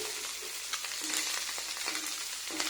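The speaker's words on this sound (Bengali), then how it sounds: "চলো এখন এই মাছটা ভেজে নিচ্ছি" Fish frying in a pan, a soft, continuous sizzle with faint crackles and occasional stirring ticks, quiet and steady throughout with no voices.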